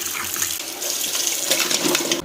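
Water runs and splashes steadily from a tap as gunda berries and raw green mangoes are rinsed clean in a kitchen sink for pickle making, with soft sloshing and bursts of spray close by.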